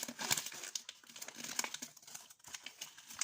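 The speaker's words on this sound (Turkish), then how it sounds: "Hemen açalım şöyle kağıdımızı da." Paper from a toy pony package crinkles and rustles as it is unfolded by hand, close and quiet, in a string of irregular crackling bursts with no talking.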